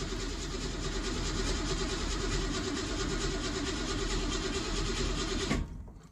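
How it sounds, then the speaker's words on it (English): A car engine with an emptied carburetor cranks steadily for about five and a half seconds with a dense, continuous mechanical drone, then cuts off abruptly into near silence without clearly catching. "I'm going to go ahead and fire it up and see if it'll start with the choke plate connected"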